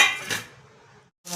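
A flat iron tava griddle set down on a gas stove burner gives a sharp metallic clink and clatter at the start, then a fading ring and a second brief knock. It is close and fairly loud, with no voices.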